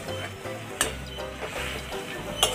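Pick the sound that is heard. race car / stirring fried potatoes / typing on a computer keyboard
stirring fried potatoes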